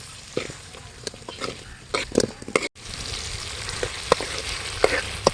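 Green chillies and native garlic sizzle and crackle in hot oil for a fish curry, with close, irregular stirring scrapes and spatters over a constant frying hiss.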